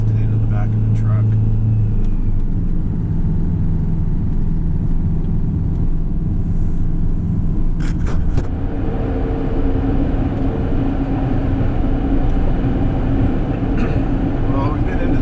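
Truck powered by a turbocharged Detroit 4-53 diesel engine climbs to a 5,700-foot summit, its low steady drone and road rumble continuous and loud from inside the cab, with someone talking over it.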